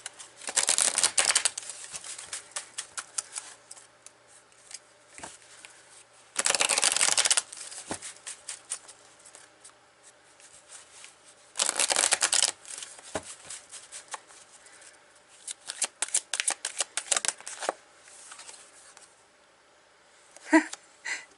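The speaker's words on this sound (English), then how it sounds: "So let's pull an oracle card for this," Oracle cards are shuffled in bursts, several quick riffling flurries close to the mic separated by quiet pauses and light handling clicks.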